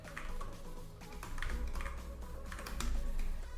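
Rapid typing on a computer keyboard during Angular programming work, a steady close-up patter of key clicks with a few heavier keystrokes, no voice over it.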